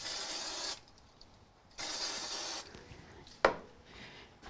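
An aerosol can of spray glue hisses in two steady bursts of about a second each, close by, followed by a sharp tap and faint rustling while crafting a card.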